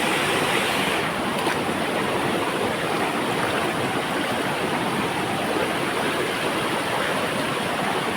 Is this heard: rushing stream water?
yes